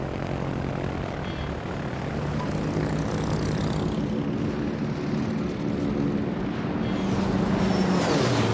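A steady, loud propeller-engine drone of a fighter aircraft launching from the Soviet Tier 8 carrier Chkalov in the naval game World of Warships, holding throughout with a slight swell near the end.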